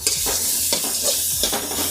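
Tomato, ginger and coconut fry in a pan with a lively sizzle, broken by several quick, close scraping strokes as a spoon stirs them.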